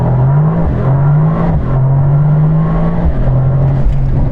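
An exclusive sports car pulls hard through a 0-60 mph run, its engine note loud and close as it climbs in pitch. Quick gear changes interrupt it at regular intervals.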